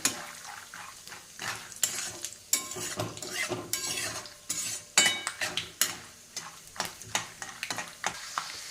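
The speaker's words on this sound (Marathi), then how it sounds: "त्यानंतर शेंगदाणे मिक्स करायचे" Peanuts are stirred in a hot pan for upama, with repeated scraping and clinking strokes of a spoon against metal over a soft sizzle, close and fairly quiet, with no talking.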